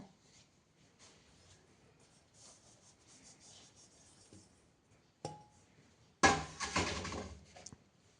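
Dry fruit and methi ladoo ingredients are stirred and rubbed together by hand, soft faint scraping and rustling that ends in a louder, grainy burst of mixing near the close, with no talking.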